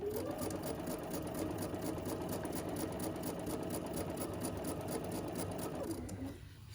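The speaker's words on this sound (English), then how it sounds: "your patchwork looks like a chain of pieces coming out the back of your sewing machine." A Bernina sewing machine chain-piecing patchwork runs steadily at speed, its rapid needle clatter continuous for several seconds before slowing to a stop.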